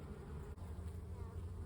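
Honey bees buzz steadily at close range during a spring hive inspection, a dense continuous hum with a brief dip partway through.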